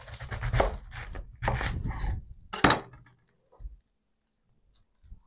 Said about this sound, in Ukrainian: Тому капусту буде шаткувати, а моркву натирати на тертку для моркви по-корейськи.